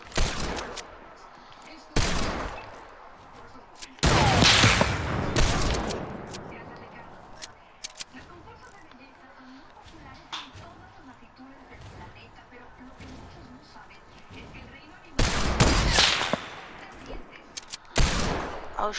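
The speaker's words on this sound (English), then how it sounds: "Oh shoot, I shot my sniper on accident, man." Sniper rifle fire in a video game, with loud sharp bursts of shots at the start and again near the end, separated by quieter stretches while players talk.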